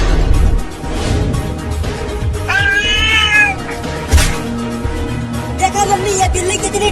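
A cat yowls and caterwauls loudly and close by, with drawn-out, rising meows while it attacks and jumps to bite a person. A crash and scuffling noises mix into the fight.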